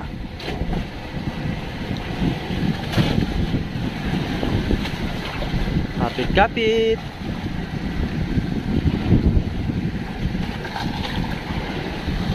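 A fishing boat rocks on a choppy Pacific Ocean with rushing wind and splashing waves, a person calling out briefly over the constant roar and knocking.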